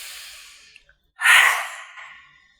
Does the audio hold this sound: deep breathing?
yes